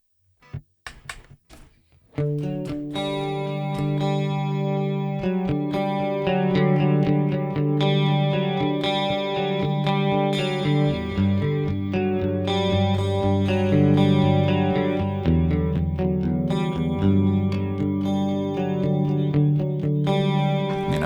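Electric guitar played through a Rockman amp simulator with a lush, compressed effect with chorus and echo, after a few muted picking sounds; chords and melodic lines ring out smoothly.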